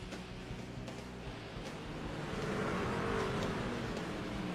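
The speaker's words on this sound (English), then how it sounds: "We're moving here now behind the pace car. We will be green flag here shortly." Race trucks in a 33-truck field rolling behind the pace car before the green flag, a steady low engine drone that swells slightly louder midway, with no voices.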